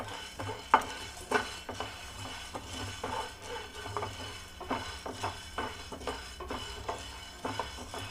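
Peppercorns dry-roasting in a pan for rasam powder, stirred with a spoon: quiet, irregular clinks and scrapes against the metal over a faint background, no voices.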